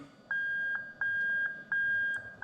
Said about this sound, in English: And you can hear that annoying beep that we've got over there.